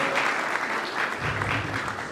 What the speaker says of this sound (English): So if you want to give him a round of applause